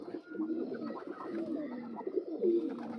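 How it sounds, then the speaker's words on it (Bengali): Pigeons from a paired set of Madrasi fancy birds coo steadily and close by, low throaty warbles running throughout with no talk over them. "এটা মাদি পায়রাটা"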